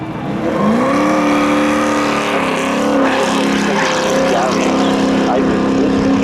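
A 1986 Pontiac Firebird drag races a 1994 Pontiac Trans Am at a speedway spectator drag event, engines roaring loud and steady with rising revs through the run.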